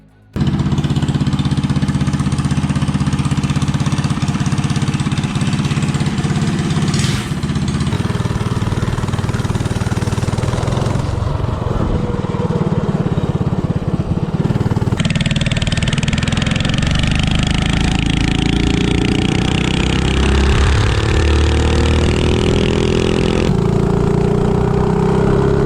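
Small Storm Force snowblower engine fitted with a header pipe and a 120 jet, running steadily at close range with a loud raspy drone, starting abruptly and shifting pitch slightly as revs change.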